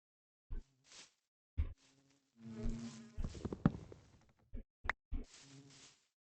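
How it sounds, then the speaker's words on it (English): Bees buzzing around a bee nest in Minecraft survival on a superflat world, a string of short droning buzzes with gaps between them, rising to a denser cluster midway, close and fairly quiet. "I don't know how many bees are in this bee nest."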